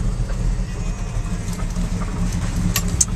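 A 1979 Dodge Lil' Red Express pickup engine runs steadily nearby with a low, even rumble and a couple of faint light clicks, and no one speaks.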